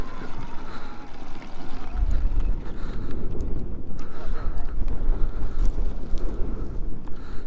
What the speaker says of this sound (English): It is windy up here, gusty.